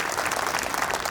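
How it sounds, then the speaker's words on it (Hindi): Members of an assembly hall clap together in a brief, even burst of applause, a uniform patter of many hands at moderate loudness. "एक बार मुझे पूरा सदन तालियां बजाते हैं।"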